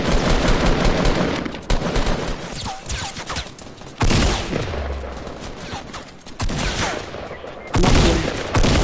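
Automatic gunfire in the Fortnite video game, loud bursts of rapid shots in several clusters with brief pauses between them, close and dominant over faint background.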